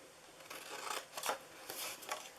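Scissors snip through paper, cutting the bottom flaps of a handmade treat bag in a few quick, close strokes, fairly quiet with no talk.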